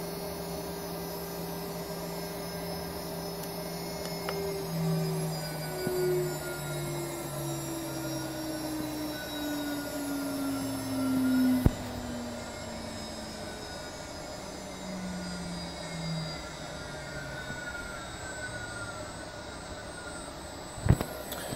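A CNC 6040 spindle runs at about 11,500 RPM, giving off a faint, steady whine with slowly drifting tones and a couple of brief clicks.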